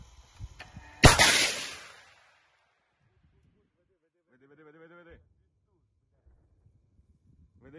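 A single sharp, loud blast from a weapon fired at a tank in the Ukraine war, its report decaying over about a second, followed by quiet and brief distant voices.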